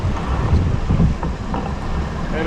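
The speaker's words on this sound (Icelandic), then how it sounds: "Það er jafn vindur" Steady wind buffets the microphone aboard a keelboat racing in the Icelandic keelboat championship, a continuous broadband rush with low rumble and no voices.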